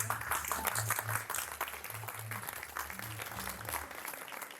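Faint, distant applause from an audience after a short film screening, a soft steady patter with a low hum underneath.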